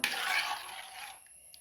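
Water is poured into a pan of sardine curry with ground spice paste, a brief splashing gush lasting about a second before fading to near quiet.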